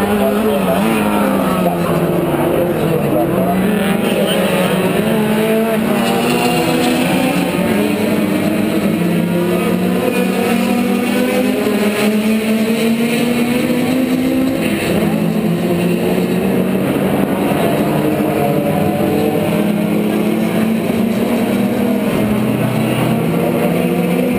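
Touring race cars compete in a Castrol Canadian Touring Car Championship race, engines roaring loud and close without a break, their pitch sweeping up and down as they accelerate and shift.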